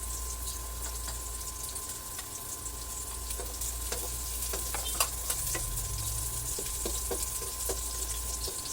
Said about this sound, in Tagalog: Gisa lang po natin ng maigi.